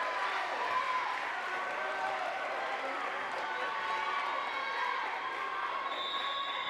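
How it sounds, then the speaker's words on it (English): A high school girls volleyball crowd in a school gym murmurs and cheers steadily throughout, a dense continuous roar with an announcer's voice talking over it. "This Milford crowd trying to come to life"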